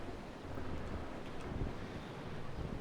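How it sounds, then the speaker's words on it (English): Wind rushes steadily past while a cutter sails in the Naval Action game, a low, continuous blustery roar blended with faint sea wash, moderately quiet and unbroken, with no talking. "Kind of going against the wind here."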